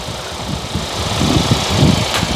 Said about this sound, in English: I'm gonna let the engine idle for some time.